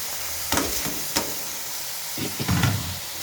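Rice grains for khichuri fry in a pan with vegetables, giving a low sizzle broken by a few sharp scraping stirs, the last burst of frying a little louder.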